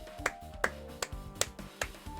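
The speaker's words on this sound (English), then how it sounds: "I'm clapping because that's a great thing." A single person claps slowly, about six sharp, evenly spaced claps, close and distinct over a faint tonal hum in the background.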